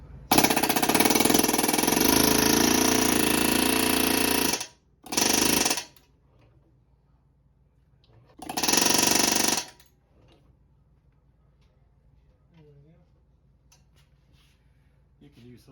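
A power hone runs inside bronze valve guides in Chevy double hump cylinder heads, a loud continuous whirring grind for about four seconds, then two shorter bursts with quiet pauses between.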